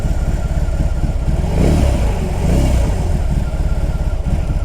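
A BMW R18 B motorcycle's boxer engine idles with a steady, lumpy pulse, then revs up twice in quick blips before settling back, close and loud.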